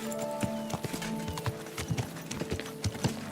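Horse hooves clip-clop at a steady walking rhythm in Kingdom Come: Deliverance 2, close and distinct over low ambient game sound, with no talk.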